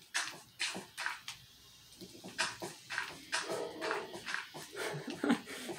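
Rambo, a dog, lets out a series of short barks and yips in uneven bursts, with a brief pause early on before the barking resumes steadily, close and fairly clear.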